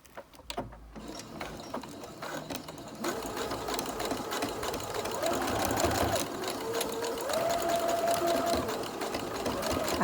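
Sewing machine stitching the cording onto a ballet bodice, a fast continuous rattling run of stitches that starts lightly and then holds steady and close for several seconds.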